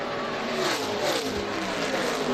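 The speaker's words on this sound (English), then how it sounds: "you got a tire chattering like that" NASCAR race car at Texas with its tires chattering, a continuous close engine roar with a rough, fluttering grind through the whole stretch.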